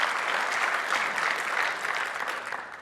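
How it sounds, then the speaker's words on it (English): A tech conference audience claps in a steady, dense wash of applause, fairly quiet and distant, with no talking. "Big round of applause."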